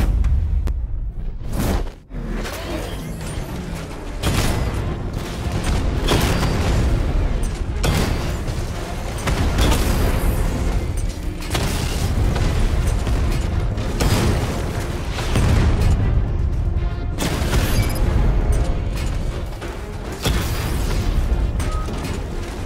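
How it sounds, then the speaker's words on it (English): Repeated heavy booms and blasts from a 60mm tank cannon firing at armored units in Batman: Arkham Knight, loud and continuous over dense game action with whooshes and mechanical clatter. "Your 60mm cannon will penetrate these heavily armored units, but it'll take a few direct hits to destroy them."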